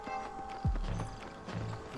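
Horse hooves in the Western video game Red Dead Redemption, a few soft clip-clop steps on the ground, moderately close, set among game ambience and faint background chatter.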